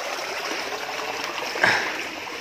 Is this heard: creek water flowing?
yes